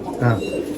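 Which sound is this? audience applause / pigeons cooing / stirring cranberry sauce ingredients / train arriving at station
pigeons cooing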